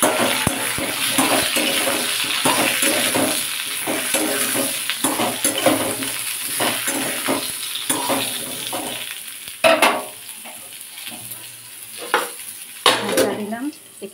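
Chunks of potato and pointed gourd fry in a pan for a thin rohu fish curry, crackling and sizzling steadily up close while a utensil scrapes and clinks against the pan in irregular bursts.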